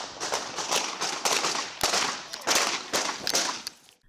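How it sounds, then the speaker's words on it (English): A rapid series of sharp cracking shots, roughly a dozen, fired in an uneven rhythm at moderate distance, then silence. "Gunfire broke out."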